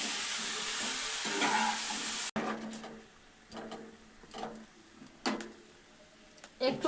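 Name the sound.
stirring mango chutney cooking in a pan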